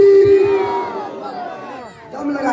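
Crowd at a religious speech gathering shouting a response to a takbir slogan, with a strong sustained voice at the start followed by a swell of many voices chanting together, loud and reverberant.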